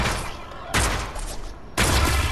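Combat pistol shots in a video game: dense, loud blasts that jump in abruptly at roughly one-second intervals and leave a continuous roar between them.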